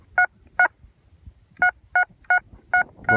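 Metal detector signal tones beep over a buried target at an 1840s stagecoach stop site, sounding as short, clean two-pitch bursts repeated about seven times, loud and close with gaps of faint ground scraping.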